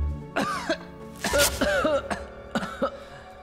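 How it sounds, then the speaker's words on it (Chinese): Several people cough in quick, overlapping bursts, about six or seven harsh, close coughs spread over a few seconds. "一起咳嗽吧。"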